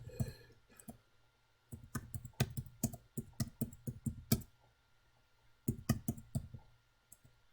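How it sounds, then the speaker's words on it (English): Keys clatter on a computer keyboard in bursts of rapid, irregular clicks, close and crisp, separated by short pauses with no talking. "what you'll notice as I'm typing these in"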